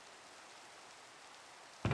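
Steady, soft rain hisses evenly in Minecraft, a constant wash of patter with no voices, broken at the very end by a sudden louder burst.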